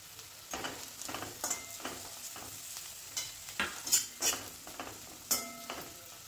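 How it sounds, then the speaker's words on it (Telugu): Onions and green chillies fry in ghee in a pan, with soft sizzling and intermittent scraping and stirring strokes of a utensil, fairly quiet and close. "1 కప్ ఆనియన్ వేసుకొని గోల్డెన్ బ్రౌన్ అయ్యే వరకు ఫ్రై చేసేసుకోండి"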